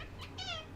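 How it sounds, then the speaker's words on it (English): A house cat gives a short, clear meow, fairly close, over a low steady background hum with no talking. "The cats are out, so apologize if there's any weird hanking or meowing or weird noises"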